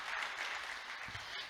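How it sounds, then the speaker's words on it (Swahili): A church congregation claps during a youth vintage service, a soft, continuous patter of many hands heard from a distance, even and unbroken for a moment. "kanisa tuwapigie makofi tena"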